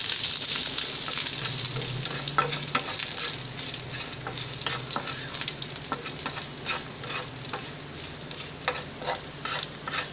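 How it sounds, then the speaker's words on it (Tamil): Curry leaves, okra and dried red chillies frying in hot oil for a buttermilk curry, a steady close crackling sizzle with scattered sharp pops and occasional stirring scrapes, with no talk. "வெண்டைக்காய் ஒரு சைடு வதங்கிக்கிட்டு இருக்குது, வரமிளகாவும் நல்லா வதங்கிட்டு இருக்கு"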